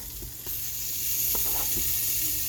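Flour-dredged beef sautés in hot oil in a pan for an autumn beef stew, giving a close, steady sizzle that grows louder, with a few faint clinks of stirring.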